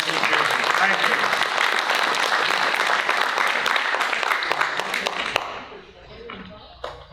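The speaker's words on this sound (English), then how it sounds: "Can I have a round of applause for these two gentlemen?" An audience at a board meeting applauds warmly for about five seconds, the clapping tapering off into scattered claps and a quiet room.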